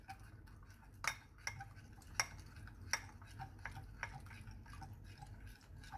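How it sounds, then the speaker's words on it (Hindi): A spoon stirs custard powder into cold milk in a bowl for a mango trifle, scraping softly with several sharp clinks against the side at irregular intervals, no voices. "मैं cold milk ऐड कर रहा हूँ. and it's very important कि आप cold milk ऐड करें इसके अंदर. और इसको हम अच्छी तरीके से मिक्स कर लेते हैं इधर"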